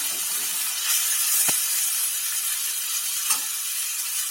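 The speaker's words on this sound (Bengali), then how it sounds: "এইভাবে লাল করে আরেক পিঠ ভেজে নেব।" Wild mushrooms foraged from the forest frying in a pan, a steady close sizzle and hiss running throughout with a couple of brief louder spits of oil.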